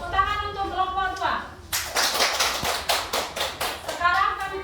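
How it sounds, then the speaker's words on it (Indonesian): A class of students claps for a presenting group in a classroom, a burst of quick sharp handclaps lasting a couple of seconds between stretches of a voice talking. "Tepuk tangan untuk kelompok 2."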